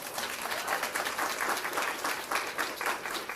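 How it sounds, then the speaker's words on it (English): Audience applause for students at an early childhood center ribbon-cutting ceremony, a steady wash of many hands clapping at moderate distance with no voices over it. "Let's give them another round of applause."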